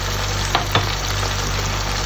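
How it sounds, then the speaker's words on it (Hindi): Chicken karahi sizzling with spices in a hot pan, a loud, steady close-up hiss with a couple of brief clicks from stirring, no talking. "अब यहाँ पे आपने अच्छे तरीके से इसे भूनना है।"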